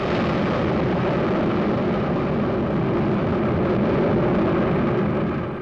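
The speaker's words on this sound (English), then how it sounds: "Concorde from Air France lands at Shannon Airport in Ireland" Air France Concorde jet airliner landing at Shannon Airport in Ireland, a loud, steady broadband engine roar that holds constant throughout, close and continuous with no voices.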